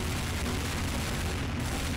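Explosions in the video game Garry's Mod, heard as a dense, continuous roar of booms and blasts that fill the whole clip loudly, with no talking.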